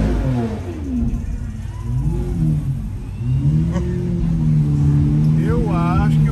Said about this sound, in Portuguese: Não tem ronco pra esse carro.